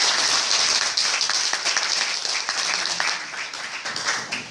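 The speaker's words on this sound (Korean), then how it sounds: "큰 박수 부탁드립니다" Audience applause at a residents' meeting in Suwon about radon, a dense, steady clapping crowd filling the room, sustained and fairly loud throughout without speech.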